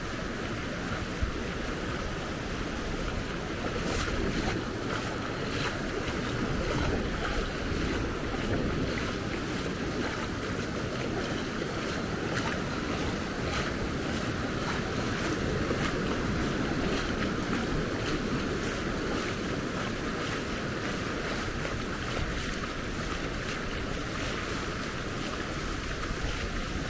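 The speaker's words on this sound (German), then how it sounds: "Die Wellen kommen aber jetzt von beiden Seiten" Ocean waves at Punta de Maspalomas on Gran Canaria, coming in from both sides, make a constant loud roaring wash of surf mixed with heavy wind buffeting the microphone, unbroken for nearly half a minute.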